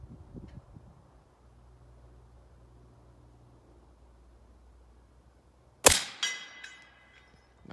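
A single loud gunshot fired during a hunt cracks sharply out of quiet outdoor background hiss, followed by a short ringing echo and a fainter trailing report.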